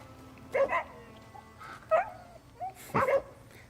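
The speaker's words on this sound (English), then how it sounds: "Look at the doggy." A dog in the Crimson Desert video game gives a series of short barks and yips spread over a few seconds, moderately loud and close, in irregular bursts over a low game ambience.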